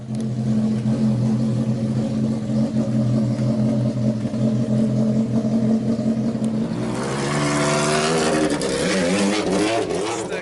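An Elia race car with a Hayabusa motorcycle engine runs at a hillclimb slalom event at Massa Lubrense, a steady loud engine drone that surges into rising, rasping revs partway through.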